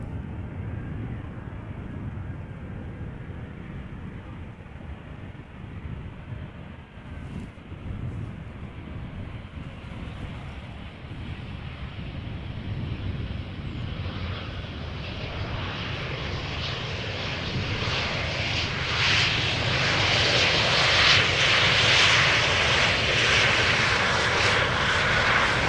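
An Embraer jet arriving at Amsterdam Schiphol from Cardiff approaches and passes, its engine roar swelling steadily from a distant rumble to a loud, close whine with wind buffeting the microphone.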